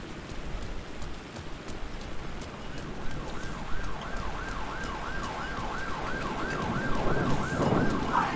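A police car siren in the horror video game Alan Wake 2 wails in a rapid rising-and-falling pattern, starting faint and swelling louder over a windy, rumbling backdrop.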